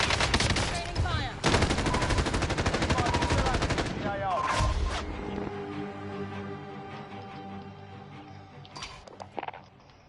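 Machine gun fire at training, loud and sustained: dense automatic bursts rattle for about five seconds, then fade into a ringing echo with a few scattered shots.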